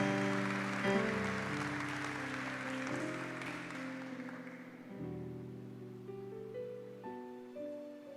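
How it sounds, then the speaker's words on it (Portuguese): A church congregation applauds loudly during a Portuguese-language sermon on the Prodigal Son, with steady broadband clapping that slowly fades over sustained keyboard or organ chords. "Você pode aplaudir bem forte ao Senhor?"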